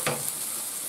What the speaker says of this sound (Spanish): La cebollita se rehoga así todo, que coja color.